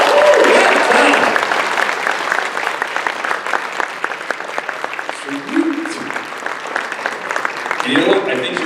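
An audience at the EFNW 2022 convention charity auction bursts into loud applause after an item sells, then the clapping thins into scattered claps as voices talk over it.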